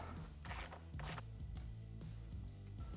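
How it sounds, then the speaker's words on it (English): A socket ratchet with a 19 mm socket loosens the front axle of a Yamaha TW200 motorcycle, giving close, loud repeated clicking pawl strokes in a quick uneven rhythm with no talking. "So I've got a 19N wrench, 19 socket. We're gonna go ahead, break that loose."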